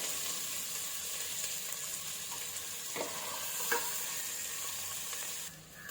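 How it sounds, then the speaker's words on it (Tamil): Onions for a vegetable biryani sauté in a pan with a steady, close hiss of sizzling oil, broken by a few scraping stirs of a spoon and a short dip near the end. "வெங்காயம் பாதிக்கு பாதி கொஞ்சம் நல்லா வதங்குற அளவுக்கு நல்லா நம்ம வந்து வதக்கிக்கலாம்."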